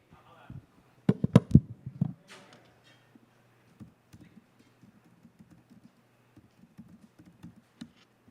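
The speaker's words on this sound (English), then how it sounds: "Sorry, typing is hard." Typing on a computer keyboard, a burst of quick clustered keystrokes up front followed by sparser scattered key taps, close and fairly quiet, no talk.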